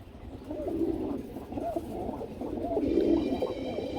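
Fancy pigeons, a Gola pair, cooing softly in repeated low, throaty bursts, close by, amid faint background rustle.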